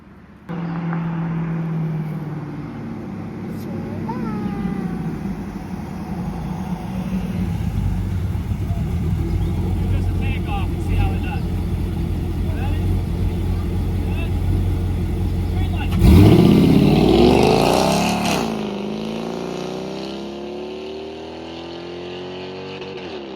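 A Toyota Prius fitted with a 5.3-litre V8 and open exhaust cut-outs approaches, its engine drone building steadily from a distance to a loud roaring pass near the end, with people talking over it early on.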